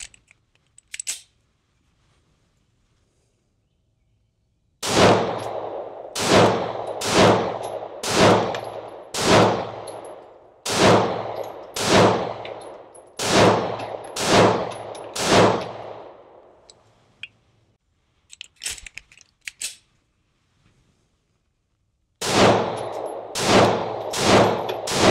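A ported Sig Sauer P365XL pistol with an aftermarket grip module fires loud, evenly spaced shots in three strings separated by pauses for magazine changes, each report ringing briefly outdoors with no talk.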